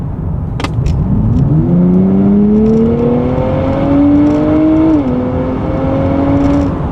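A 2023 Nissan Z accelerates hard from 30 to 80 mph on an off-ramp, the engine note rising steadily and loudly through one long gear, dipping briefly at a shift, then climbing again in the next gear.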